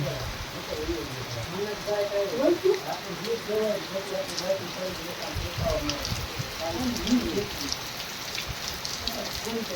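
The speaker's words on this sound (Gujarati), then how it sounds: "વરસાદ ચાલુ થઈ ગયો." Steady rain falling during a monsoon visit to a relative's village home, a continuous broadband patter with voices talking over it throughout.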